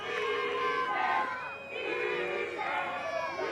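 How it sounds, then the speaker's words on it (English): Spectators at a men's European ultimate frisbee semi-final between Great Britain and Spain chant and shout loudly and steadily, a dense crowd roar with a brief dip midway before swelling again. "loud Spanish contingent in the crowd, chanting for that defensive block and turnover"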